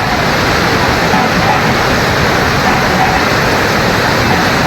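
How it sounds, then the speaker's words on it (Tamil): Floodwater from heavy rain rushes near the Panchalinga waterfall at Thirumoorthy Hills, a loud, steady, dense roar that continues without a break. "திருமூர்த்திமலை பஞ்சலிங்க அருவி பகுதியில் கனமழை காரணமாக அமலலிங்கேஸ்வரர் கோவிலை வெள்ள நீர் சூழ்ந்தது"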